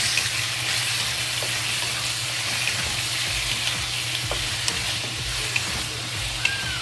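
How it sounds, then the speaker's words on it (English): Cut pork belly pieces fry on a medium flame in a wok for a Hunan braised pork dish, giving a steady, close sizzle and crackle with faint occasional pops and no talking. "later on the medium flame, slowly fry to make the fat in the pulp come out"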